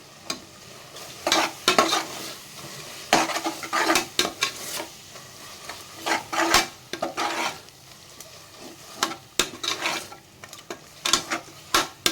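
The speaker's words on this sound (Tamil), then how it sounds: "தக்காளி வதங்கிட்டு இருக்கு." Tomatoes with Kashmiri chilli powder sautéing in a pan for vegetable biryani: a soft, steady sizzle broken by repeated scraping and clanking strokes of a spoon stirring against the pan.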